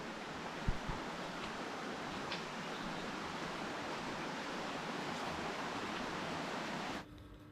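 Stream water flowing near Pha Taek waterfall in Khao Laem National Park, Kanchanaburi, a steady broadband rushing that continues evenly before cutting off at the end, with a couple of brief knocks early on.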